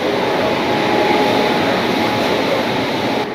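Steady loud rumble and rush of the Puri–Sealdah special train running, heard from inside an AC three-tier coach, a continuous even roar with no breaks.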